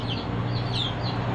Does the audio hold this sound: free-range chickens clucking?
yes